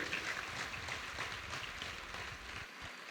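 Applause from an audience for the parents at a college orientation day for first-year engineering students, a soft, distant wash of clapping that holds evenly throughout.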